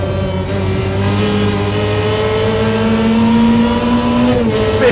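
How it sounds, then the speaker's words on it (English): A Group B rally car roars along a track, its engine held loud and close for several seconds with the pitch climbing steadily under load, then dropping sharply as the driver lifts off near the end. "This car is noisy."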